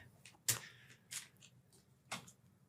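A few quick riffling bursts of cards being shuffled, soft and close, spaced out with quiet pauses between them.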